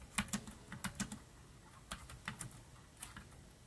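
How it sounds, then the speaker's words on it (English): Soft, quick keystrokes tap in short bursts on a Logitech K600 wireless TV keyboard, close and quiet with brief pauses between clusters. "iPad test typing works well, no lag, no delay."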